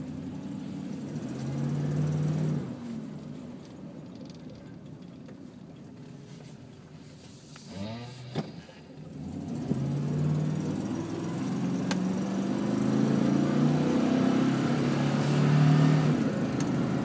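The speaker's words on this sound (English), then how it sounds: "That's a quick 0 to 50. That was about 3/4 throttle." A Sierra truck accelerating from 0 to 50 at three-quarter throttle, a low engine rumble that rises in stages with audible gear changes and a brief thump midway, steady and moderately loud without speech.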